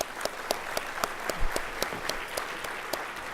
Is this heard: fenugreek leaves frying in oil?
no